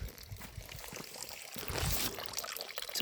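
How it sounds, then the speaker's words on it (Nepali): Water pours from a village well in a broad, steady gush, loud and close, swelling midway through with no talk over it. "बल्ल पानी कुवाको पानी भेट्यो"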